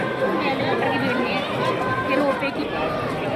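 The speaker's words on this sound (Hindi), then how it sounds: "देखो भीड़ देखो।" Dense crowd chatter fills the queue at the Vaishno Devi ropeway and helicopter ticket counter, a steady murmur of many voices close around, with someone speaking over it.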